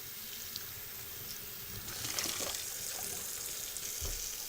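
Tap water running into a bowl in a bathtub, a soft steady splashing and trickling that swells slightly midway, fairly faint and continuous with no voices.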